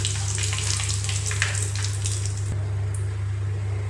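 Spices with red chili powder sizzle loudly in hot oil for mustard hilsa, steady and close, with stirring scrapes through most of it before the sizzle softens near the end.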